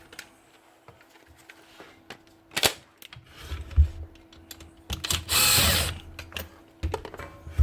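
A Makita 3600B router with worn bearings spins up briefly in a loud mechanical whirring burst, among close clunks, rattles and handling knocks of the tool being moved, with no talk.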